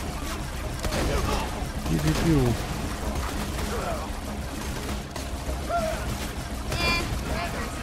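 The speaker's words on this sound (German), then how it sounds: "dann schießt du normal auf die, bis sie halb tot sind und ich knall sie dann mit Igern ab" Gunfire from the shooter game Borderlands 2, with bursts of shots and game effects mixed with ambient noise, moderately loud under steady talking from players.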